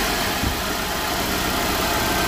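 A car engine idling steadily with a constant low rumble and broad mechanical noise, close and loud, with no start-up audible, in a car repair shop.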